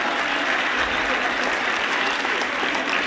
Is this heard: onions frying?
no